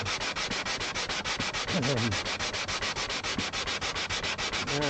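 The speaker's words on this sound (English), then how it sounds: "Just sanding my butt off here. Well, I'm sanding this bridge off actually." Steady rhythmic sanding strokes rasp back and forth at close range on an acoustic guitar bridge, even and continuous, with no talking.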